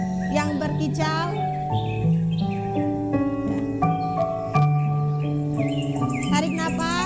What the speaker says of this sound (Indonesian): suara burung yang berkicau